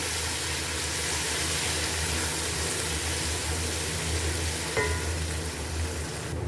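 Onion, garlic, ginger and curry leaves sizzle and crackle steadily in hot oil, with a brief clink partway through.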